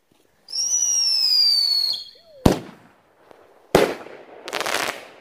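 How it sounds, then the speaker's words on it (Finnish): Large New Year firecrackers go off outdoors: a rising whistle, then two sharp loud bangs with crackling tails, the last followed by a burst of rapid pops. "Nyt me aloitetaan isojen patonen räjäyttäminen."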